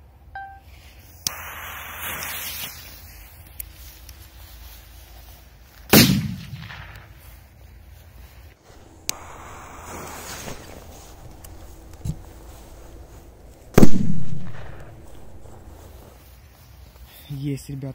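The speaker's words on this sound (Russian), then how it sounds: "Есть, ребятки, мощный взрыв." A K-1000 firecracker goes off outdoors at night with two sharp, powerful bangs several seconds apart, each trailing into a brief rumble, amid faint crackles and scattered voices.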